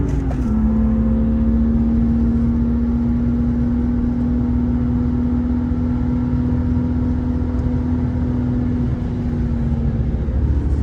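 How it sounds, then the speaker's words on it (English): Steady engine drone from inside a moving BMW E36 M3, with a sustained humming intake induction tone held at a constant pitch throughout, no talking. "The intake, that induction noise is crazy."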